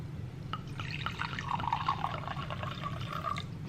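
Rosé wine pours from a bottle into a glass close up, a steady gurgling trickle with small drips and clinks of the glass, heard alone without talk.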